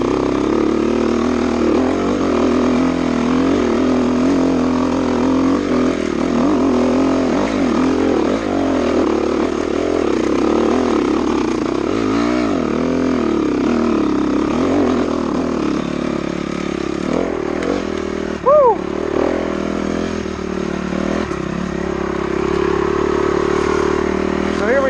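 A Honda CRF 250R dirt bike ridden along single track, its engine buzzing steadily and loudly throughout with rising and falling revs as the rider works the throttle and clutch.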